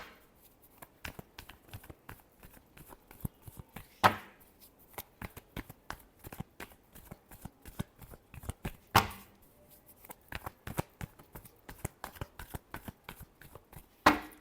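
Tarot cards shuffled by hand in rapid repeated riffles and taps, a quiet, close crisp patter of card edges with a few sharper slaps.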